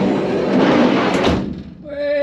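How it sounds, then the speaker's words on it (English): A van's sliding door is pushed along and shut during a sub-floor build, a close, loud rumbling slide ending in a thud, with voices around it. "Shut the door."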